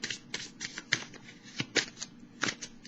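A deck of animal-themed cards being shuffled in a quiet indoor setting, giving crisp riffling bursts and soft slaps in an irregular rhythm, close and fairly quiet with no voices.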